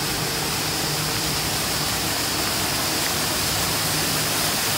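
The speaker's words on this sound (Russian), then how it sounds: "Такой минимум водопадик." A small waterfall in the mountains near Marmaris gives off a steady, loud, broadband rush of falling water close by, unbroken and with no voices.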